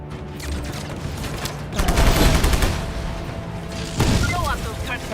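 Rapid gunfire and booming explosions tear through electrical units and transformers in a video game, in dense loud fusillades with heavy low rumble. A voice talks over the shooting.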